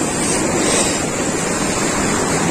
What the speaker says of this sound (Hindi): ओ तेरी पानी का फ्लो देखो भाई, तगड़ा चल रहा है